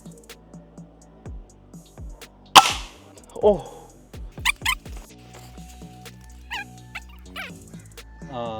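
A sharp, loud crack from a single shot of a Precihole NX200 air rifle, followed by softer clicks, thumps and faint bird calls.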